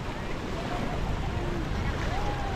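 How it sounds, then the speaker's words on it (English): Ocean waves rolling in and breaking against limestone rock formations at a Puerto Rico beach in Arecibo, a steady wash of surf mixed with wind buffeting the microphone, with no clear break between swells. "Got some waves coming in, and it clashes with the rocks formation here"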